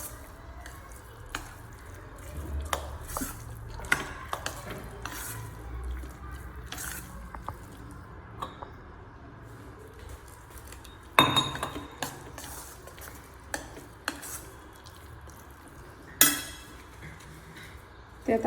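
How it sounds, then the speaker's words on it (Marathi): A spoon stirs and mixes appe batter in a bowl, giving intermittent clinks and scraping against the dish with soft wet sloshing, with occasional kitchen clatter and a voice talking. "सगळं मिक्स करून घेऊया."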